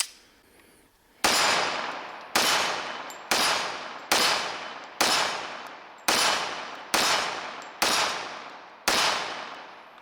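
A Dan Wesson Vigil 1911 pistol fires nine sharp, loud shots at an even pace of roughly one per second, each blast decaying with a short ringing echo, preceded by a quiet moment.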